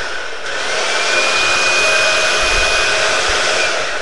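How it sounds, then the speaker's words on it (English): A household vacuum cleaner runs close by with a loud, steady whooshing roar and a faint high whine, holding unbroken throughout. "I'm going to be vacuuming"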